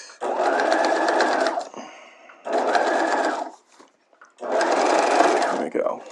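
A sewing machine stitches bodice fashion fabric and lining together in three separate runs of steady, fast whirring, each broken by short pauses with faint handling noises.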